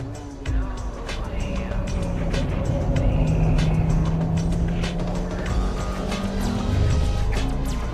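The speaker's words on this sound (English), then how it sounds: "I can approach this hairpin at full throttle." A Honda Type R engine held at full throttle into a hairpin near the Degner corner, a loud, steady, droning engine note with gently shifting pitch that runs throughout.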